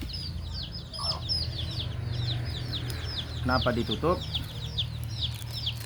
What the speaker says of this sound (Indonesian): di tempat kita ini banyak ayam umbaran yang dipelihara secara lepas